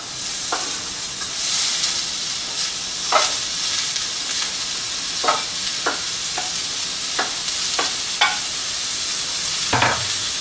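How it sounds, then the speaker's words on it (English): Carrots and onions sizzle in a hot pan with mushrooms for a mushroom herb shepherd's pie, a steady frying hiss broken by about ten sharp stirring scrapes and clacks, close and loud with no talking. "I just add my carrots and onions because those mushrooms are doing pretty good"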